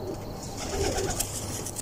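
Pigeons cooing nearby, soft low murmured coos repeating faintly over a quiet background.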